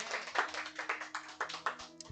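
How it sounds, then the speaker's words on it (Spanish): Sparse clapping from a church congregation, a handful of distinct hand claps in an uneven rhythm, fairly close and moderately loud, with a low hum underneath. "Denle un aplauso a Dios por eso."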